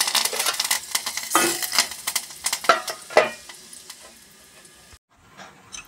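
Urad dal and curry leaves sizzle in a hot pan for chutney tempering, a close, steady frying crackle broken by sharp spatters and stirring scrapes that stops abruptly near the end, leaving a faint hiss.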